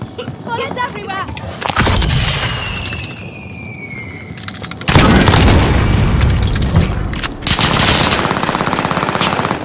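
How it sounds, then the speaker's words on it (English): Rapid automatic gunfire and explosive booms from the battle royale video game Call of Duty Warzone, Fortune's Keep quads mode, fill the scene loudly, with bursts, impacts and breaking-glass crashes and a brief game voice mixed in. "Bullets everywhere."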